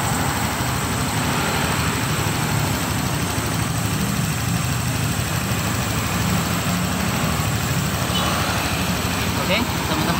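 A Honda Vario 125 scooter engine idles steadily after an idle adjustment, a continuous low rumble with a constant hum running through the whole stretch and no clear breaks.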